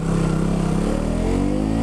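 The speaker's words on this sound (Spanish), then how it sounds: "aunque el motor es de un solo cilindro, no se escucha como las motos convencionales de un solo cilindro" A KTM Duke 200 single-cylinder motorcycle engine runs loud and close with a steady, slightly rising drone, as if revving or accelerating, with no voices.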